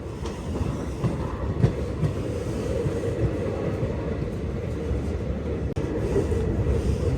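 A train on the new Katra to Srinagar line in Jammu and Kashmir runs on the rails with a continuous low rumble and wheel clatter. A single sharp click sounds near the end, and no voices are heard.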